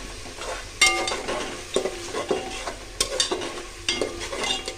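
Masala spices frying in a pan for biryani, sizzling steadily while a spoon stirs and scrapes the pan in repeated close strokes, with no talking.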